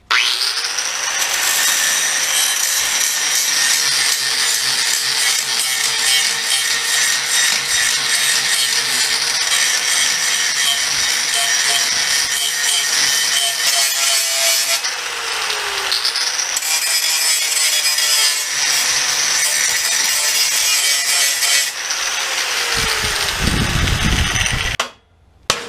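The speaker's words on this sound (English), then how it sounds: "start cutting the 420 plate off of there" Steady, loud high-pitched cutting noise of a power tool slicing the 420 plate off a 212cc go kart, running almost continuously with a few short pitch dips before stopping near the end.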